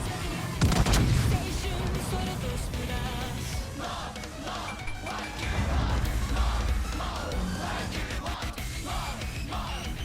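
Heavy naval gun salvos from the Yumihari warship in a naval combat game, deep booming blasts and rumbling impacts over a dense battle din, loud with a few swelling surges.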